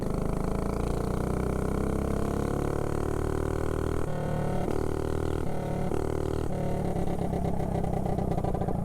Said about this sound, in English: I love the sound of that trumpet exhaust